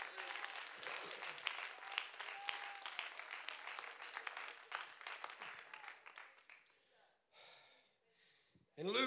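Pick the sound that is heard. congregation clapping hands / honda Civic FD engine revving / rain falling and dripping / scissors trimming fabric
congregation clapping hands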